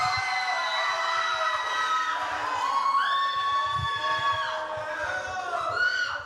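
A church audience cheers, whoops and shouts steadily as a guest speaker is welcomed, a dense crowd roar with high voices rising and falling throughout.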